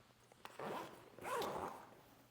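A YKK zipper on a pickleball bag pulled open and closed in two quick, close zips, each a rasping sweep lasting under a second, with no talking.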